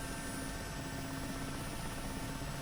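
Mi-8MTV2 helicopter in the DCS flight simulator, rotor running up toward full speed: a steady, dense turbine whine and rotor drone holding at constant loudness throughout, close and continuous with no voices.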